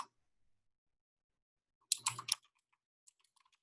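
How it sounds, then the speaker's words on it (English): Quick burst of keystrokes on a computer keyboard entering a terminal command, a tight cluster of clicks followed by a few scattered faint taps against near silence. "So we're going to type sudo"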